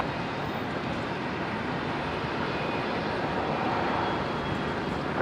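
A Qantas airliner takes off from runway 01 left at Brisbane International Airport, heard as a steady, broad roar of jet engines from some distance, holding even through the clip with no talking.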